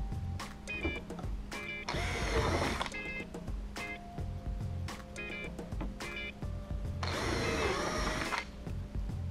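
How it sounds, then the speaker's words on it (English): A power drill bores into the hull of a Jackson Kayak Cuda 14 while a Power-Pole Micro anchor is being installed. Two strong whirring bursts are separated by quieter clicks and handling noise. "Obviously, when drilling into the boat"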